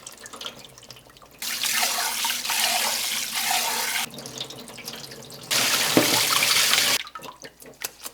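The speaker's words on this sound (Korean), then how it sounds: "굴은 소금물에 담가 조물조물 살살 씻어서" Oysters are rinsed in salt water at a sink, with two long bursts of running tap water splashing close by, separated by quieter spells of gentle handling and drips.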